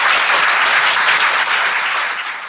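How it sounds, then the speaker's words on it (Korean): Loud, close applause from a seated audience at a talk-show style broadcast, a thick continuous burst of many hands clapping that stays steady before easing slightly at the end. "이분한테 좀 박수 좀 부탁드립니다."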